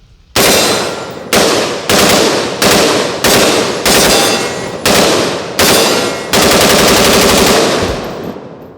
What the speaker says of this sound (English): we're gonna do some burst now